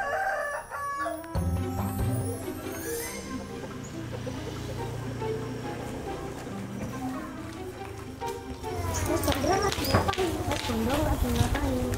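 A rooster crows amid clucking fowl, layered under busy background sounds and talking voices.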